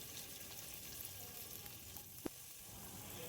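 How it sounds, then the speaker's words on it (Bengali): Small cubes of paneer fry in hot oil in a pan, giving a faint, even sizzle throughout with one sharp click partway through. "এখন আমি পনিরগুলোকে 2 পিঠ লাল লাল করে ভেজে তুলে নেব"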